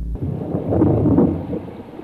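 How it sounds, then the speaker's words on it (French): Rain falls with a deep roll of thunder, a sudden low rumble rising and fading over a steady hiss of rainfall, loud and close with no voices. "Mais voilà qu'il pleut."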